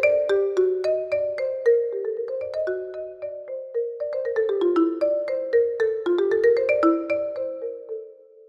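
Marimba plays rapid sixteenth-note runs of bright, quickly decaying mallet notes, swelling louder and easing softer in waves across the phrase, then tapering off at the end.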